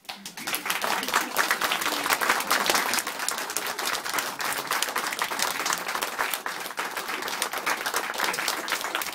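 Audience applauding at a theatrical stage show, dense continuous clapping from a crowd that starts abruptly and stays loud and steady.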